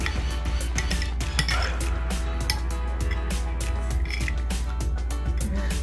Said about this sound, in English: And mix well. Mix it well.